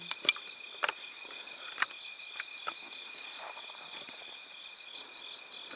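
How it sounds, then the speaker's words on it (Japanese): A frog croaks at night beside a mountain lake, giving steady rhythmic pulsing calls in repeated bursts among a constant high chirring of crickets, with scattered faint clicks and rustles nearby. "カエルちゃんが泣いちゃったっす。"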